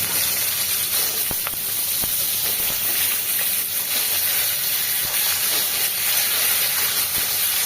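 Eggplant pieces dropping into hot oil tempered with black cumin (kalo jeere) and green chilies, giving a steady, loud broadband sizzle that runs continuously throughout, with a few small pops and no talking.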